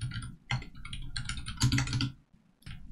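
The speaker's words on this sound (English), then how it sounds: "So I will type public" Computer keyboard typing while entering code in Unity: irregular bursts of close, crisp key clicks with brief pauses between them, no talking.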